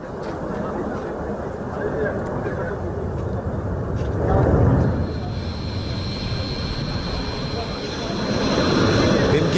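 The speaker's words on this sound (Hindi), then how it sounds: "अपाचे अटैक हेलीकॉप्टर किस तरीके से वहां पर लगातार उड़ान भर रहा" Apache attack helicopter flying at night, a continuous rotor and engine rumble that rises in two swells, one midway and another near the end.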